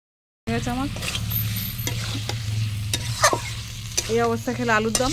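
Onions fry in a pan with a steady close sizzle, broken by the scrape and clatter of stirring, while someone talks over the cooking.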